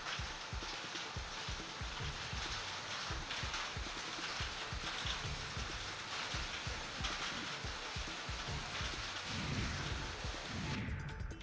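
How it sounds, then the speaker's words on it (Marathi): Heavy rain mixed with hail pounds steadily in Murbad taluka, a dense, continuous roar of impacts with sharp hard hits throughout, fairly loud and without speech. "मुरबाड तालुक्यात गारपिटीसह झालेल्या मुसळधार पावसानं हजेरी लावलेली आहे"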